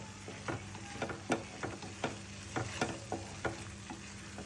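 Curry leaves frying in a pan of masala, a soft steady sizzle broken by rhythmic scraping stirs and light clinks about every half second, close and quiet with no talk.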